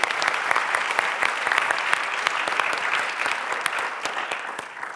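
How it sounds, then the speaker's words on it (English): A live audience claps for a panel of speakers at a health policy event, with dense, steady applause running the full length at moderate loudness and easing slightly toward the end. "I'd just like to give a round of applause to our panelists for fantastic responses"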